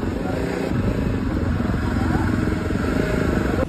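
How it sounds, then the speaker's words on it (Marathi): A Jawa 42 Bobber motorcycle being ridden, its engine a steady, loud, continuous drone with rumbling low end and road noise throughout, no clear breaks or revving peaks. "आता हेल्मेट घालून आपण आता गाडी चालूया"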